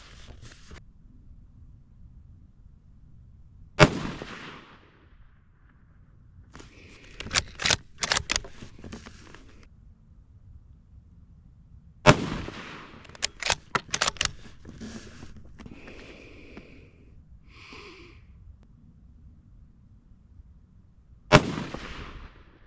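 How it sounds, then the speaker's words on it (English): Ruger American Gen 2 rifle in .223 firing three separate shots at a target, each a sharp loud crack spaced several seconds apart, with wind noise and small clatter between them. "we are going to be shooting at the center target"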